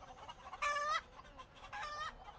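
A chicken in a video game gives two drawn-out clucking squawks, clear and fairly near, separated by a short pause over a low background hum.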